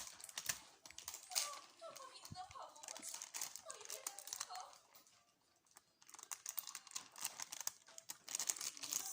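Snack wrapper on a chocolate cheese treat being torn open, with close crinkling and crackling of plastic in irregular bursts, a short pause in the middle, and a voice speaking softly in the background.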